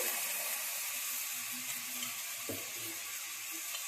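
Food fries in ghee for a pappongali breakfast, giving a faint, steady, even sizzle with one brief clink partway through.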